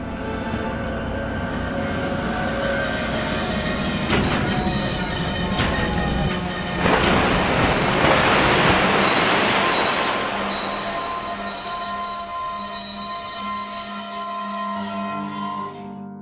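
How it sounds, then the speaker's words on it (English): A train of two locomotives and two coaches rolls onto a bridge over Newark Bay with rumbling wheels, clicking rail joints and high squeals of metal, building loud midway then easing off as it carries on. "However, the train keeps on going until..."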